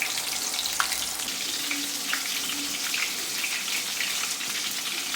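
Batter sizzling in hot oil, a steady crackling hiss with scattered pops and spatters, even and moderately close, with no voices.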